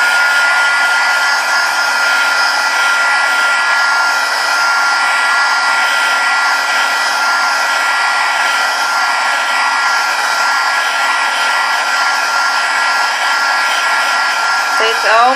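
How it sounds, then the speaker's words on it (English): Heat gun blowing continuously while drying a coating on homemade canvas, a loud, steady hissing whoosh of air with no breaks, close and alone for the whole stretch. "Let me get my heat gun so we can speed up things."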